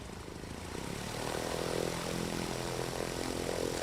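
A small vintage Top Cub airplane at STOL practice in Sulphur Springs, Texas runs up its propeller engine for takeoff, the droning buzz swelling from faint to a steady, moderately distant roar with no voices.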